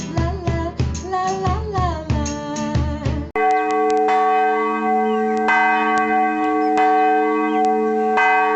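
A church bell rings in a steady run of clear, resonant strikes with long ringing tones, following a brief stretch of other bright, rapid bell-like notes, with no voices.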